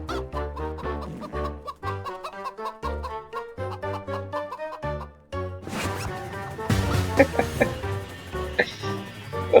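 Rapid, rhythmic chicken clucking notes chatter along over upbeat game music in the Roblox game Chicken 2, growing busier and noisier toward the end with crashing effects.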